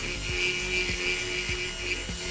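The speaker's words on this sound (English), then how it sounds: "I'm gonna clean that section out with a little Dremel work." A Dremel rotary tool grinds out a section of a prop gun build, a close high whine with regular pulsing bursts as the bit works the material, no speech.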